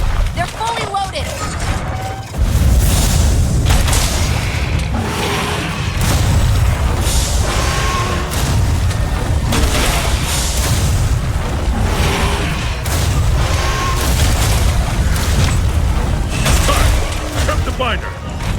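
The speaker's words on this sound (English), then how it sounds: "Cannons up above should be able to hit its head." Cannons fire at a monster in Monster Hunter World, a dense run of repeated heavy booms and blasts that keeps going over loud battle noise, with voices talking through it.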